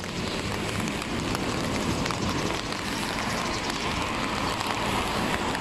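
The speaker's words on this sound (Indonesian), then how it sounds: "Hujan tapi" Steady, dense rain in Fukuoka, Japan, hissing on a surface, continuous and fairly loud throughout with no voices.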